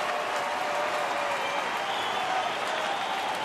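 A big baseball stadium crowd during a Toronto at Detroit game makes a steady, distant roar of applause and cheering that never breaks or fades.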